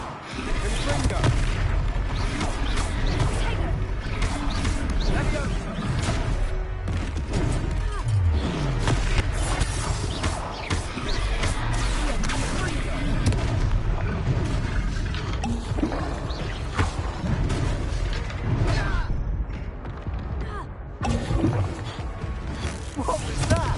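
Confringo spell blasts in the Hogwarts Legacy video game boom and crackle over a dense, loud battle din that stays constant throughout, with deep thuds and rumbling, while character voices speak over it.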